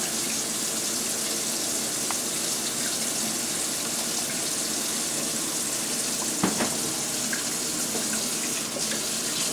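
Steady running water from a tap with faint wet rubbing as a makeup sponge is soaked and worked under the stream, continuous and close, with a couple of small splashy knocks.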